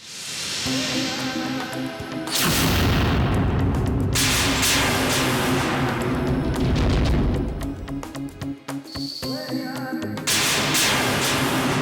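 Booming magical fire explosion blasts from a TV serial crash over a dense, roaring soundtrack, with a sustained rumbling surge and sharp bursts layered on top.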